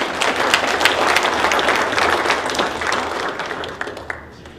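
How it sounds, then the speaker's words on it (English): Loud audience applause fills a hall at a gadget show, steady dense clapping from a crowd that thins out and fades over the last second. "A round of applause."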